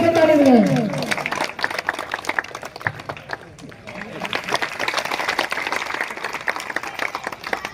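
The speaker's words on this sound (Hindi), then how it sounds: "सभी साथी जोर से ताली बजाएं।" A crowd claps to welcome new members at a Bharatiya Kisan Union (Tikait) farmers' meeting in Dhaulana: steady, dense applause with a voice over it at the start, continuing unbroken at moderate loudness.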